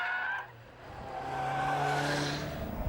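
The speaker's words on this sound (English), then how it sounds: "Now look at the Vauxhall. It's the back that's letting go." A Vauxhall VX220 Turbo slides through a corner with its rear letting go, tyres squealing in a high sustained whine over a rising engine note, close and loud throughout.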